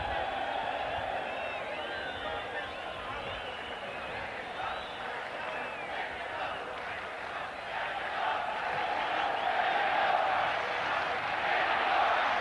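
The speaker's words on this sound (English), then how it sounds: "when the crowd get just a little bit distracted from the proceedings, they are always chanting for Mexico, Mexico" Football stadium crowd at a 1986 World Cup match in Mexico chanting for Mexico, a steady distant roar of massed voices that swells louder in the second half, with no commentary over it.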